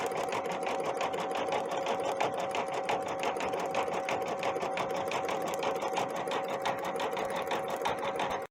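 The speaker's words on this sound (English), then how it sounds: "It did go all the way around and sew it down." A Stellaire embroidery machine stitches down couched yarn, running as a continuous, fast, even mechanical whir with rapid needle ticking and a steady hum, close and loud for over eight seconds before stopping abruptly.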